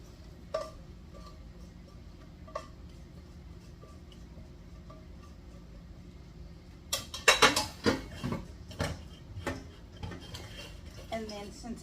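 Cooked ground meat strained from a pan, heard as a cluster of clinks, scrapes and clatters of metal and cookware after a quiet stretch with occasional faint ticks.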